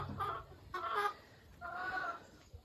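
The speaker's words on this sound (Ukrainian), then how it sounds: "Ото стара курка" Chickens in a poultry yard, including an old hen, give short bursts of clucking and cackling in three separated calls, fairly faint and slightly distant, with no talk over them.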